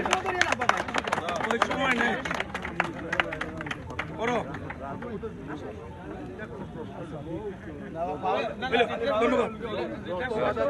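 Crowd applause at the opening ceremony of the M. Saifur Rahman memorial invitational football tournament in Moulvibazar, Bangladesh, scattered claps rising and swelling from a nearby audience amid murmuring crowd chatter.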